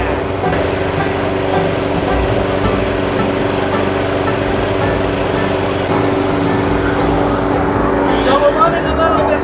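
A Murray lawn mower engine idles steadily at about 2,800 RPM. It is a loud, constant, close-up drone with a rough buzzing hum, and a voice speaks briefly over it.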